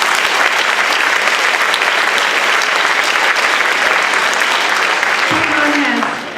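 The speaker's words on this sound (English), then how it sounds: "Let's just have a round of applause." Audience at a school band senior honors event breaks into sustained applause, continuous dense clapping from a room of people, with a brief low tonal hum entering near the end.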